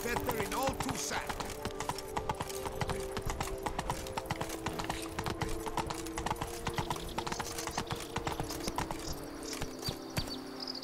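Horse hooves clip-clop steadily on a road in The Witcher 3, a brisk continuous trot under game ambience, with a voice briefly speaking over it.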